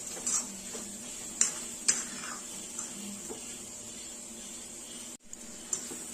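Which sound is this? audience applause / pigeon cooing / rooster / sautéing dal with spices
sautéing dal with spices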